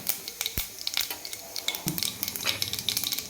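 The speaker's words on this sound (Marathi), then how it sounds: "मोहरी तडकल्यानंतर तितकंच पाव चमचा जिरे." Cumin seeds dropped into hot oil right after mustard seeds have spluttered, giving close, crisp sizzling with scattered sharp pops and crackles that continue throughout.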